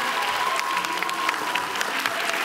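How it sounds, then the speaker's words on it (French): Theatre audience at a live showcase evening applauding, a continuous close wash of clapping with scattered sharper individual claps and faint background voices. "On applaudit le public, ils ont été géniaux."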